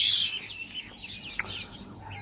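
Birds sing and chirp in trees at dawn among quiet surroundings, with a loud burst near the start and a sharp call partway through.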